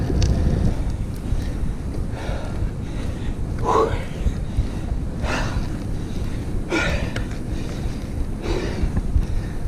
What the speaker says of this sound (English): I think the wind must be helping a little bit because I'm not feeling too bad.